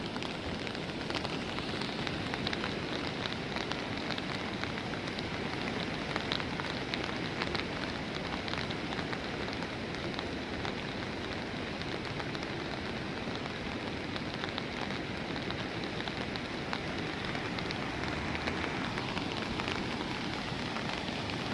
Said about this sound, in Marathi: त्याच्यात पाऊस सुद्धा अजून चालूच आहे.